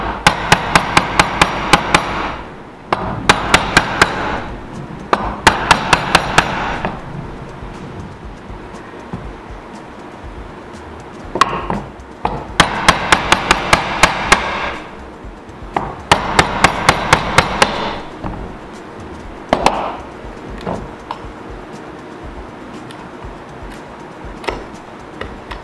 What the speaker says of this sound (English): It's just good fundamental chiseling, not taking too much material, working slowly over towards your marking line